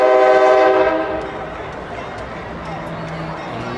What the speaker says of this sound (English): Track is right beside train tracks. Had a number of trains go by.